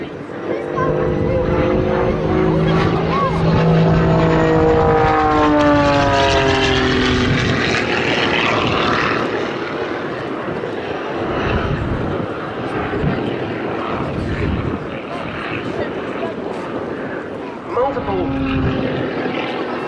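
A propeller aircraft flies aerobatics at a summer airshow at Duxford, climbing in a spiral tower into a flat spin, its engine droning loud and near with shifting pitch as it sweeps past, while a commentator talks over it.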